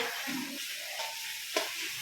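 Vegetables sizzle in a hot kadai while being stirred, a steady frying hiss with a brief scrape of the spatula.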